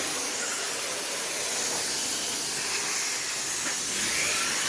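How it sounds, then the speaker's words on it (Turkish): A steam cleaning machine used for upholstery and sofa washing gives off a steady, loud hiss of spraying steam. The sound runs continuously through the whole stretch, with no voices over it. "Buharlı yıkama farklı bir şeydir."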